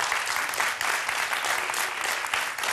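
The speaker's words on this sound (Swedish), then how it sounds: "Ja, det är värt en applåd det också." Studio audience applause on a Swedish televised bingo lottery show, a dense, steady burst of clapping that fills the whole stretch at full volume with no break.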